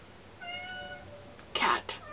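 A cat meows under and between a person talking nearby, the call rising through the middle of the moment and followed by a shorter second sound.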